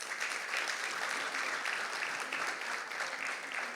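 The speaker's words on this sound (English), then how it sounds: "Another rousing round of applause." An audience claps at a Christmas awards dinner, with a steady, fairly faint wash of applause that keeps an even level from start to finish.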